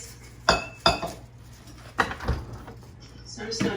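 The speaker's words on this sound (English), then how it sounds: "I'm gonna use a whisk." A whisk clinks sharply against a bowl of heating butter, giving a few distinct metallic taps close by, with quieter kitchen clatter between them.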